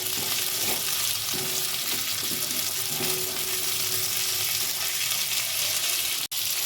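Whole spices with softened tomato frying in a pan for masala paneer, a constant close sizzle with faint stirring scrapes, steady and unbroken until a sudden cut near the end, no talking.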